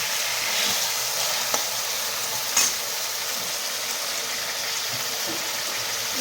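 Chicken sizzles and fries in spices in a pan for chicken tehari, giving a steady, close crackling hiss with a few brief stirring clicks and no talking.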